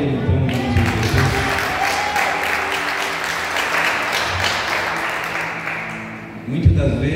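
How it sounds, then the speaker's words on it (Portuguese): A church congregation breaks into sustained applause during a worship service, a dense steady wash of many hands clapping that fades near the end before voices and other sound return. "Quem está feliz com Jesus, aplauda Ele"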